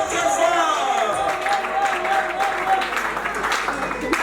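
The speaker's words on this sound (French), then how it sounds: "Mesdames, messieurs, on applaudit très fort." Wedding guests at a reception applaud steadily throughout as a lively crowd claps together, while a host speaks over the clapping the whole time.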